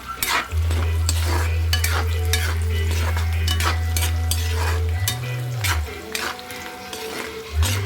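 Snack food bubbles and fries in hot oil in a home kitchen, a loud steady sizzle with stirring clinks and scraping of utensils against the pan.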